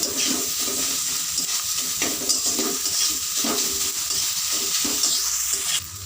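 Fenugreek greens with salt and turmeric stir-fried in a pan, a steady loud sizzle running throughout with repeated scraping strokes of a spatula against the pan.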